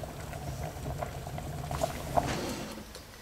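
Rice boiling in a pot of water in a home kitchen, a quiet, steady bubbling with a few small pops, close and faint with no talking.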